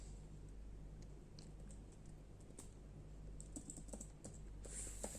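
Fingers tap out a command on a computer keyboard in a quick, uneven run of light clicks, close and quiet over a low steady hum.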